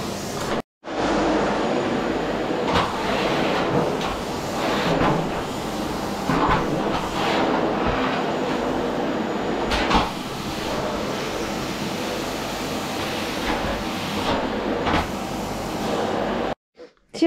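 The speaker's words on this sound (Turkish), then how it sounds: "uzun yıllar sonra ev süpüreceğim" A Dyson vacuum cleaner runs steadily while vacuuming a house, a sustained close whine-and-roar lasting most of the stretch with brief shifts in pitch, then cutting off near the end.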